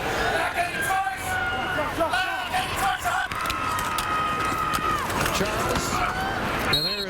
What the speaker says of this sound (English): Sold out crowd here at Mosaic Stadium